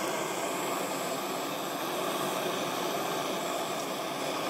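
Constant roaring hiss of a torch heating a metal piece and a small ring for soldering, close and steady throughout with no pauses.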